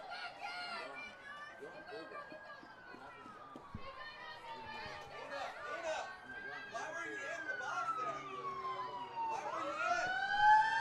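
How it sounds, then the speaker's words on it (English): Fire truck sirens wail past at a women's college soccer match, the rising and falling tones sweeping across the field in the middle distance under continuous commentary and crowd noise. "As we hear the fire trucks go past"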